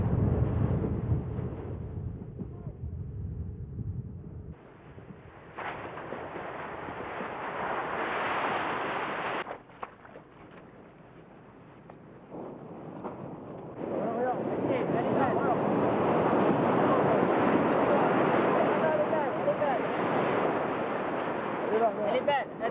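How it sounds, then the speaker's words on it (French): Waves break and wash continuously onto a seashore at a surfcasting spot, with gusts of wind buffeting the microphone; the surf roar swells louder and denser in the second half. "au bord de la mer, vous avez le bruit des vagues"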